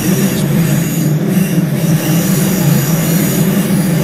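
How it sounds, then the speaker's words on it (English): Wheel flange squeal from a DB BR612 diesel multiple unit in Train Sim World 2 on the Chemnitz to Dresden line, a steady high whine over a continuous low rumble of the running train, loud and unbroken throughout. "these flange squeal sounds actually not bad, aren't actually all that bad"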